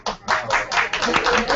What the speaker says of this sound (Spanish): Un aplauso para Tarsila y sus acciones también